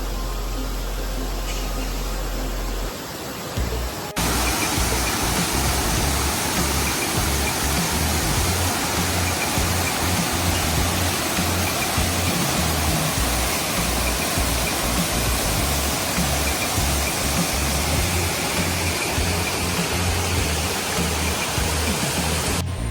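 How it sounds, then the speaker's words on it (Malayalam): Urulikkund waterfall near Irikkur in Kannur district, Kerala, a dense, steady roar of falling water close by, broadband and unbroken after a short quieter opening. "ഇതാണ് ഉരുളിക്കുണ്ട് വാട്ടർഫാൾസ്"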